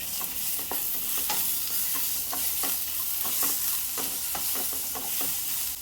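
Two chopped medium tomatoes fry in a pan for a kaju matar paneer curry, giving a steady, close sizzle broken by repeated scraping stir clicks across the whole stretch, with no voices.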